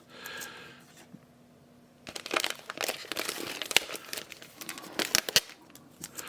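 Crinkly plastic tape on comic books, Captain Marvel among them, rustles and crackles in close, irregular bursts after a quieter opening, loud and sharp near the microphone.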